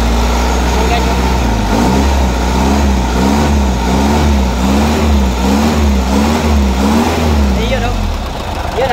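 A tuned four-cylinder car engine idles steadily and loudly up close, with an even, rhythmic pulsing hum that holds constant throughout while someone talks over it.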